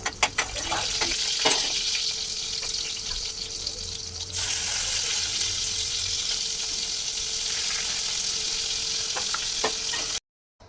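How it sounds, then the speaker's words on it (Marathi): Spices sizzle loudly in hot oil as tempering for a cauliflower dish, a bright steady crackle with stirring clatters at the start, cutting off abruptly near the end. "आता मी फोडणी द्यायला घेतलेली आहे भाजीला"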